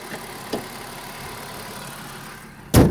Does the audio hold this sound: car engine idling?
yes